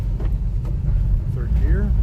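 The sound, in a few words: lifted 4x4 mini truck engine, shifting into third gear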